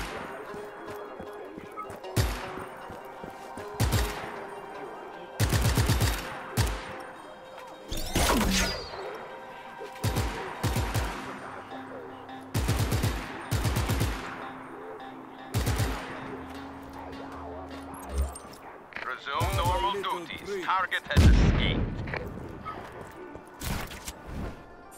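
Repeated bursts of gunfire in the Just Cause 3 video game, loud sharp volleys and single shots spaced irregularly through the scene, with a crash and whoosh near the end and game dialogue in between.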